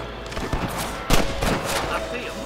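Gunfire in the Western video game Red Dead Redemption, a fusillade of several shots with a loud burst near the middle, over continuous game ambience and shouting voices.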